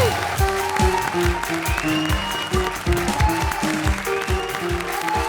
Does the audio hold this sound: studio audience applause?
yes